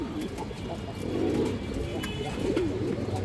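Pigeons cooing softly in low, rounded murmurs, a steady bird hum close by with some background clatter.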